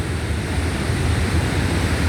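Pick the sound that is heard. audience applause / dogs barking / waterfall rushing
waterfall rushing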